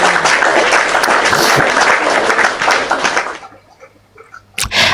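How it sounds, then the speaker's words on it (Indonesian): Audience applause for Bunda Kembang at an Indonesian talk event, loud and dense for about three and a half seconds, then stopping abruptly into quiet room noise with a brief burst at the end. "Tepuk tangan dulu ya buat Bunda Kembangnya ya."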